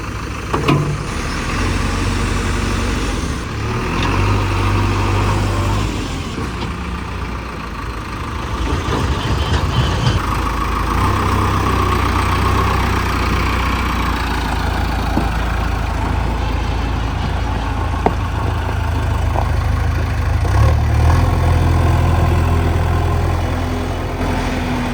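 A JCB 3DX backhoe or John Deere 5050D tractor diesel engine idles and runs loud and close, a steady low rumble throughout with small surges in revs and no talk.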